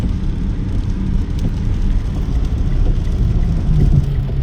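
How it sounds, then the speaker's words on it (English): Steady broadband rain hiss on a car at night in the city, with low rumble, continuous and fairly loud throughout, no voices. "It's raining."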